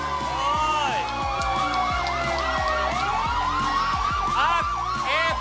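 A game show siren effect marking a bad tile: a loud wailing emergency-style siren that sweeps up and down over a steady, pulsing electronic beat.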